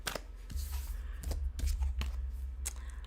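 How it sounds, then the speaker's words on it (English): Tarot cards shuffle close up in a run of quick, crisp riffling bursts, each separated by a brief pause, with a faint low hum beneath. "I'm going to do another"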